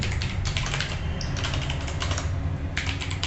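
A computer keyboard clatters as someone types a word during a typing task, with rapid close keystrokes in quick bursts and a brief pause midway.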